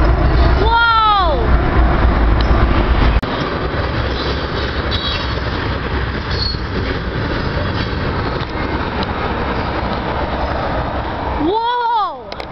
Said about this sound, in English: That was one long CP tanker train.